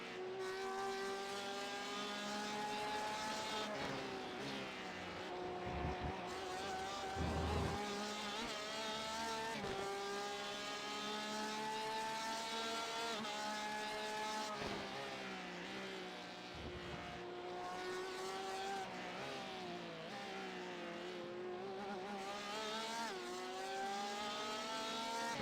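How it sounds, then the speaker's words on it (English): A race car in the iRacing sim at the Petit Le Mans 10-hour endurance race, its engine a steady, loud, droning whine that rises and falls with gear shifts and revs, with no talking. "there's a faster car approaching"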